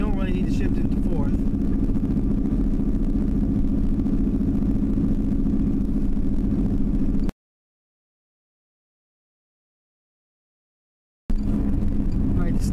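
A manual transmission car cruises at about 30 mph in third gear, its engine a steady low drone with road rumble, cut by a few seconds of silence before resuming; a person talks over it.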